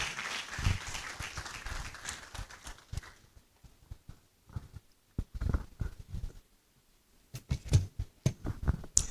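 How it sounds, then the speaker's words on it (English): Audience applause at a university white coat ceremony begins as a dense burst of clapping, then thins into scattered individual claps with quiet gaps and a few louder claps near the end. "With a round of applause, let's welcome him to introduce our keynoter."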